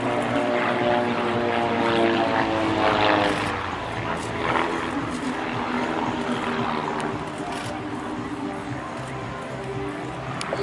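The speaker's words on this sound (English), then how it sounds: "a small kit, robust carbon fibre self-assembly aircraft that Pete Wells and Chris Burkitt have built" A small carbon-fibre kit aircraft with a propeller flies aerobatic rolls at an air show, its engine droning steadily with a shifting pitch and fairly close, while a commentator talks over it.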